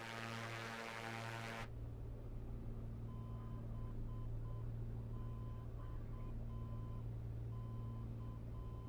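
In a flight simulator cockpit of an A2A Piper PA-250 Comanche, an electronic alarm beeps in a steady on-off pattern over the constant low drone of the engine, with no talking.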